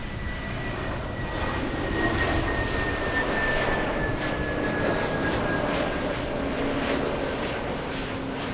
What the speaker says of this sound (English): We have a Delta coming in.